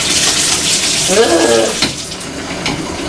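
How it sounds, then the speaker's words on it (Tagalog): A home shower runs with a steady broadband hiss of falling water throughout, while a voice groans briefly under it. "I'm gonna turn on my shower now."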